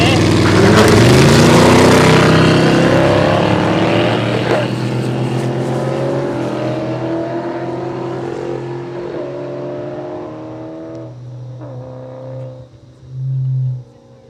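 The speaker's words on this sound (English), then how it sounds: "this wild looking Holden Ute. If you haven't noticed it before, it does have a couple of turbos" A twin-turbo Holden Ute at a no-prep airstrip drag race launches with a loud roaring engine that fades into the distance as it runs down the strip, followed by a short burst of nearer engine noise at the end.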